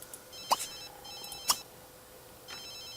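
A phone ringing in The Sims 3, two short bright electronic ring bursts about a second apart and a softer one later, faint against a quiet game background with no voices.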